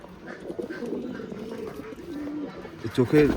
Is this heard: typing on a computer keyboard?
no